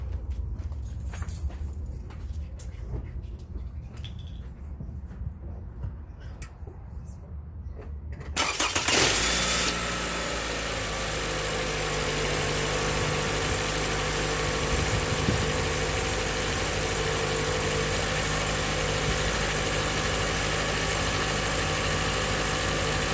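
A 2021 Toyota Highlander Hybrid engine cranks and catches during a battery crank test, then settles into a steady, loud idle that continues unbroken after a quieter stretch of faint background noise.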